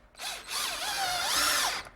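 A power driver runs a coarse-thread panhead screw with a self-drilling tip into pine. The motor whines in a brief start, then in a longer rising and falling run that ends abruptly, close and clear.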